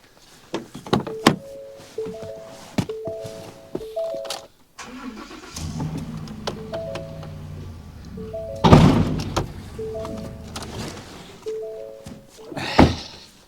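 A vehicle rolls ahead with its engine running while a trailer drops onto the hitch ball, giving a loud metallic clunk partway through, then a sharper knock near the end, with no talking.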